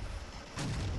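A single heavy mortar blast from the World War II strategy game Men of War, in a bocage battle, lands as one loud, close boom with a sustained low rumble.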